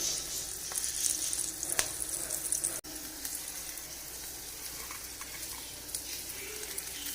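Fish roe frying in hot oil in a pan, a steady bright sizzle running throughout at close range, with faint clinks and no talk.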